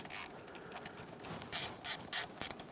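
T25 Torx bolts are loosened on the valve cover of a 2008-2020 Dodge Grand Caravan with a ratchet: several short, close ratcheting bursts in the second half, after quieter faint clicking, with no talking.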